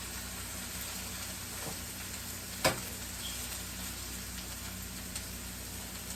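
Food fries in a pan with a steady, even sizzle heard close up, while a single sharp scrape or clack marks it being stirred and mixed partway through.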